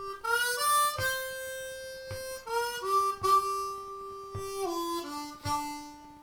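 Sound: blues harmonica turnaround played without octaves

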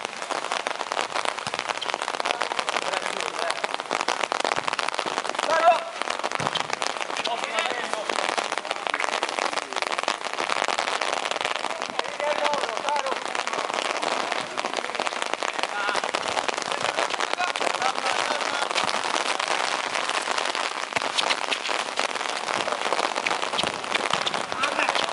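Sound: rain falling

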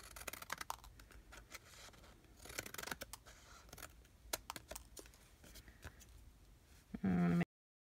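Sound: scissors trimming patterned paper for a card

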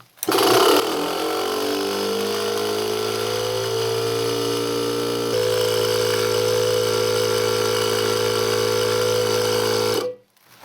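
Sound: household water pump station running, building pressure

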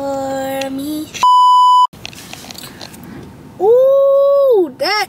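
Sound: beep from phone pairing with car

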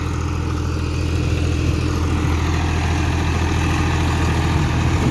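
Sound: John Deere 5045 tractor engine idling

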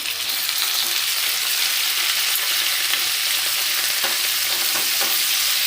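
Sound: ginger and garlic frying for chilli chicken

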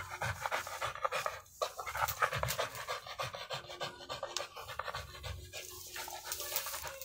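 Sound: dog panting during tug play

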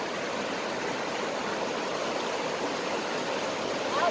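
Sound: waterfall, fast-flowing water

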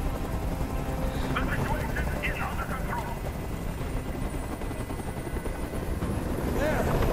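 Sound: helicopter hovering in a video game

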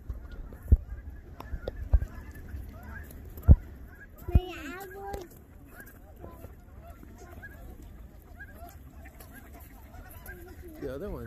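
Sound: goose honking

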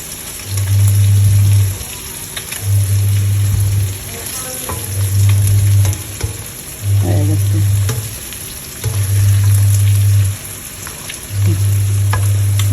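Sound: fish frying in a pan after being flipped

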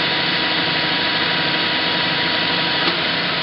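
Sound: machine cutting spacer part to length

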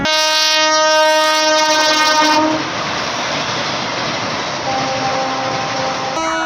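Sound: train arriving at platform

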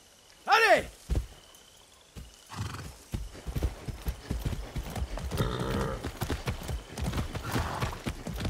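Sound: horse hooves clip-clop in Far Cry 6 video game

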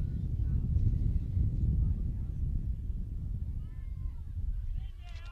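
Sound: wind blowing on microphone

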